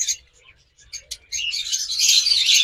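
A pair of parblue lovebirds gives short, high chirps close by, scattered at first and then running into a busier stretch of twittering near the end.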